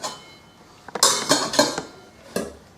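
Steamed rice is scooped from a pot with a utensil, giving several sharp metallic clinks and scrapes against the pot's rim in an irregular sequence, fairly close and without talk.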